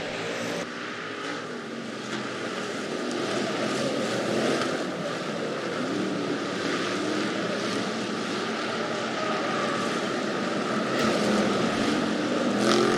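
Hobby stock race cars circling a dirt speedway during a 20-car feature: a continuous, loud roar of engines blending into a broad drone, with slight swells as cars pass, steady throughout.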